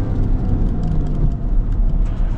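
A 2025 Ram 1500 Hurricane 3.0L Laramie's engine heard from inside the cab, a loud, steady low drone with rumble, continuous throughout without talk.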